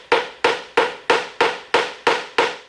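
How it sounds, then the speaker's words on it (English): A small hammer taps a vacuum fitting into a plastic intake in eight sharp, evenly spaced knocks, close and crisp with quick decay and no talking. "all you're going to do is just tap it in."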